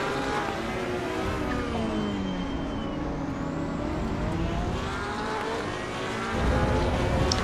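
A race car in Assetto Corsa EVO on the Nürburgring's Südschleife and Nordschleife revs through rising and falling engine whines and gear changes, loud and continuous, with a deeper rumble near the end.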